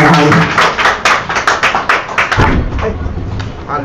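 Worshippers at a church healing service break into loud, rhythmic applause that builds into a dense crowd roar. It follows a moment of preaching and stays strong to the end.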